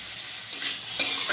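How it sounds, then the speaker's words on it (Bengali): Boiled banana flower being stirred into frying potatoes in a pan, a steady close sizzle with scraping stirs and a sharper clatter near the end, no talk. "এবার সিদ্ধ করে রাখা মোচাটা দিয়ে দিচ্ছি।"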